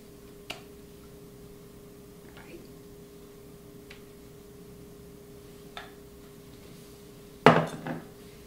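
A utensil scrapes melted white chocolate from a bowl, giving sparse light clicks and taps of metal against the bowl over a quiet room hum, ending in a louder clattering scrape.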